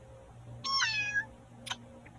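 Cartoon cat in the Avatar World video game giving a clear, bright meow followed by a shorter second meow, loud and close over quiet game background music.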